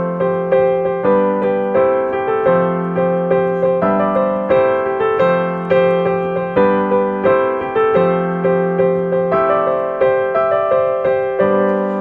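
A melody rings out on a keyboard or synth, short repeating phrases of evenly spaced notes over a held bass line, loud and near with no talking.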